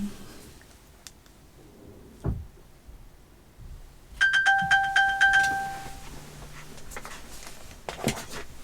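A phone triggered by a find-my-phone feature rings with a short burst of repeated bright tones, fairly close and alone, amid quiet room noise and a few soft knocks.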